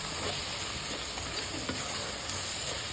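Mutton curry masala is stirred in a frying pan, giving a constant close sizzle with soft scraping from the stirring throughout.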